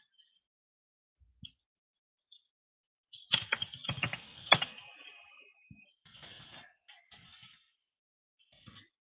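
Keys clatter on a computer keyboard during a live stream, first a few isolated taps and then a dense burst of typing followed by sparser keystrokes, quiet and close, with no voices.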